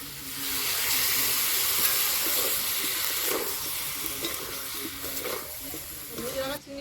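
Water poured into a pan of frying potatoes, onion, chillies, turmeric and spices: a loud surge of hissing sizzle that settles into steady bubbling, with a voice talking over it.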